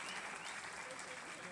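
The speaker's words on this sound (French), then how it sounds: "Applaudissez encore, applaudissez la jeunesse" An audience at a leadership and good governance conference in Kolwezi claps steadily, a continuous, fairly faint patter of applause with voices audible underneath.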